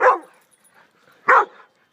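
A dog named Ozzy gives two short, close barks about a second apart during play, sharp yips with quiet between them.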